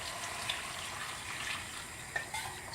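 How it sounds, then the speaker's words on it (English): A litre of stock is poured into a soup pot for parsnip and carrot soup, giving a soft, steady splashing gush with a few small clinks, close and fairly quiet, with no talk. "now we're going to put this whole litre of stock in."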